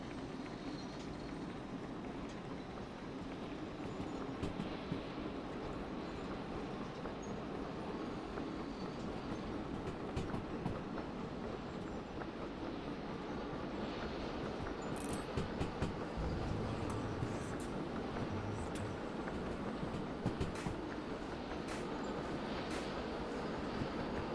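Steam locomotive running in the railway simulator game Derail Valley, a steady low rumble with rolling wheel noise and faint clatter, constant and moderately loud throughout without talk.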